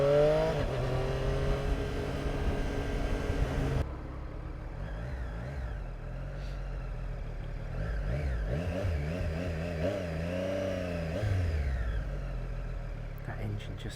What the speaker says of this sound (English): That engine just whistles so pleasantly.